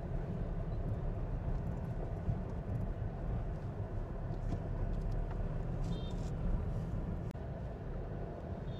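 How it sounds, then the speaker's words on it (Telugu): Busy road traffic on the railway station road in Rajahmundry, a dense continuous rumble of passing vehicles heard from the roadside, with faint scattered horn-like tones above it and no voices. "చూడండి సండే కూడా ట్రాఫిక్ ఎలా ఉన్నదో"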